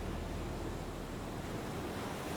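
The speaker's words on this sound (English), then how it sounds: "Waves approach from different angles. They meet, they clash." Sea waves off Denmark's northernmost point where the Kattegat and Skagerrak meet, a constant dense roar of clashing surf mixed with wind, steady and unbroken with no voices.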